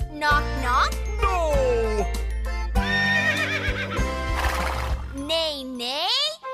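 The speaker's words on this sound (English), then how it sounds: "Yes, that's my horse." A horse whinnies and neighs in rising, wavering calls amid a cheerful children's farm song, with kids' voices and jingling music around it.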